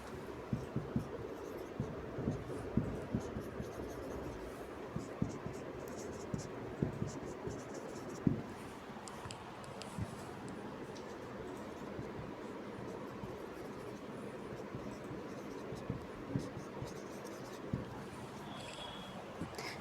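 A pen scratches steadily across paper in a soft, continuous scribble with small irregular strokes, close and quiet, with no voices.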